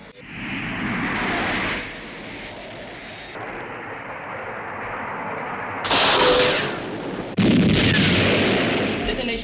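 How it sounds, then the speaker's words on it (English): Missile launch effect from the 1980 television series UFO, a loud roaring rush with blasting bursts that swell and cut in several stages, with a voice in the background. "Commencing missile sequence. Firing"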